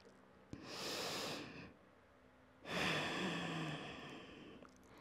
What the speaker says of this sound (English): Drop the head and breathe. Slow down the breath. Nice deep breaths.